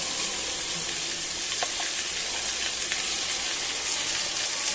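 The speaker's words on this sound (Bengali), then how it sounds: "আলুগুলোকে সুন্দর করে ভেজে নেব।" Potatoes fry in oil with a continuous, close sizzle and faint crackles and stirring scrapes throughout, and no voice is heard.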